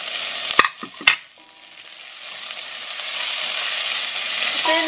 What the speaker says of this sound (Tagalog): Ilalagay na rin natin yung ating garlic.